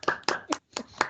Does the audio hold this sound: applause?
yes